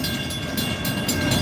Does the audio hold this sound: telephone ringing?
no